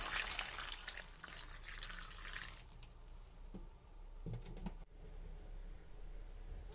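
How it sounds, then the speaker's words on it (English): Water poured over cut cocoyam pieces in a bowl to wash them, a splashing, trickling gush that runs loudly for a few seconds then drops to faint drips and small sloshes, heard close with no one talking. "I'll go ahead to add water to wash it before putting it inside the pot."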